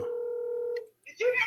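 A steady, loud telephone tone sounds for almost a second during a live phone call, then cuts off, and a voice starts talking right after.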